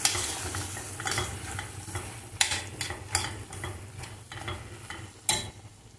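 Potato pieces get stirred into a frying chicken curry, a soft continuous sizzle under repeated scraping and clinking strokes of a spoon against the pan.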